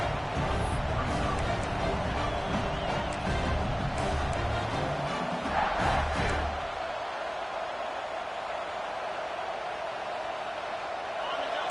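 A college football stadium crowd roars loudly and continuously during a game, then eases to a lower murmur, with a commentator talking over it.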